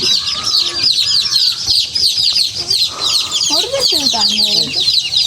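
Chicks peep and cheep busily, high-pitched and continuous, with a few lower clucks and some faint voices mixed in.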